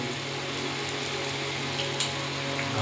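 Ground coriander and cumin sizzle steadily in hot oil in a pan for tarka, a continuous even hiss close by with faint scattered crackles and no voices.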